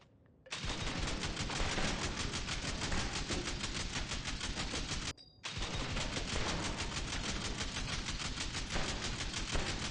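Sustained, dense rapid-fire bursts from a light machine gun on a shooting range in The Division 2 video game, loud and continuous with a brief break midway, heard alone without talk.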